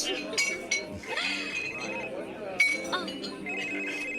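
Drinking glasses clink together in a toast, several bright chimes over a few seconds amid lively voices and background noise.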